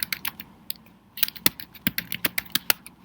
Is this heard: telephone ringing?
no